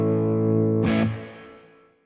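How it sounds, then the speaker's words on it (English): A sustained electric guitar chord through a NuX Trident's spring reverb, with a metallic, splashy reverb crash when struck again, then a wash of echo fading away. "I think the perfect place to start would be with that spring reverb."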